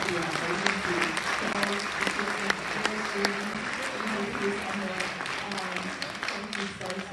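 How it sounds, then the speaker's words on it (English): Audience applause for the Copyright Agency at a two-day event, steady dense clapping filling the whole stretch at moderate level, with no voices standing out. "a big round of applause for the Copyright Agency"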